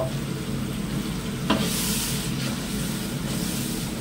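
A spice paste of Kashmiri chili powder and turmeric with a little water sizzles and fries in a pan for mutton, a loud, steady, close hiss with one sharp burst of spatter partway through.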